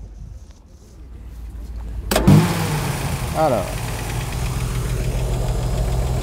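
A Jensen 541 S cranks briefly and fires with a sharp catch, then settles into a deep, steady, torquey idle, loud and close; someone speaks a word just before it starts.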